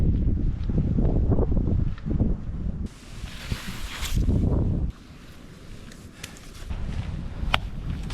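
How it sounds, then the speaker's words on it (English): Gusts of wind buffet a hillside trail on a New Zealand hike before a storm, rising and falling in loud rushing surges with rustling and microphone rumble, no voices. "The wind is picking up."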